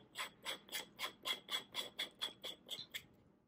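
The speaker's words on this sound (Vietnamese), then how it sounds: "lúc đó mình mới vặn cái filter vô" A filter is screwed onto an adapter ring on a Fujifilm X100V camera, making about a dozen crisp, evenly spaced ratcheting clicks close up that slow and fade at the end, with no other sound.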